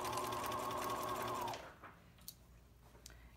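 A sewing machine stitches a foundation paper-pieced quilt seam, running loud and steady for about a second and a half before stopping, followed by faint handling clicks.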